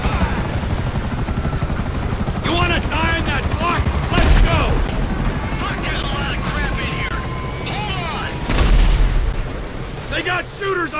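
Bursts of rifle and automatic gunfire from shooters in Grand Theft Auto V on a train mission, heard over a steady helicopter rotor drone, with loud shots clustered around a few points and shouting voices mixed in.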